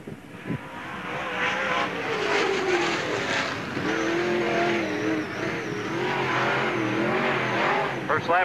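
A race car from a NASCAR Busch All Star Tour event laps Freeport Raceway, its engine droning and shifting pitch steadily throughout, with a track announcer talking over it.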